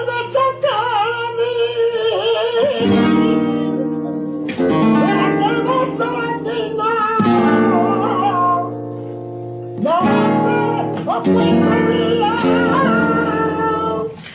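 A flamenco guitar plays a Fandango with a rushed rhythm that keeps pushing ahead. Strummed chords and runs ring out close and clear in phrases broken by short pauses, with no talk.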